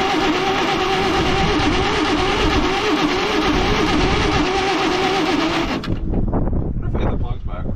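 A Caterpillar D8H bulldozer that sat for over 15 years cranks loudly and steadily on a start attempt, a dense continuous grinding churn that cuts off abruptly near the end, followed by quieter knocks.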